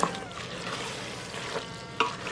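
Bacon and beans sauté in an Instant Pot, giving a steady low sizzle with light stirring scrapes and a small clink near the end.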